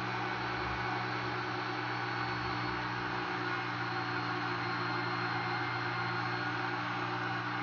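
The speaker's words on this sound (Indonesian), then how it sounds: "Sekarang kita tutup dan kita blender ya." A steady, continuous blender motor whir with a dense hiss runs unbroken throughout, blending cake batter on one setting, with no voices.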